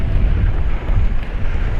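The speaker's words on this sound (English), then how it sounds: "A little bit windy today." Strong wind gusting across a seafront in Paphos during a gale, a loud continuous low roar and buffeting on the microphone for the whole stretch, with no talk.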